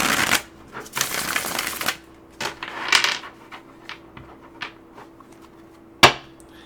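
A tarot deck is shuffled in several quick papery bursts, close and fairly loud, the riffles broken by short pauses and ending in a sharp tap.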